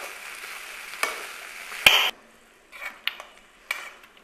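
A spoon stirs and chops idli manchurian in a pan, with a soft sizzle under a few sharp scraping knocks and clatters, then quieter intermittent stirring scrapes close by.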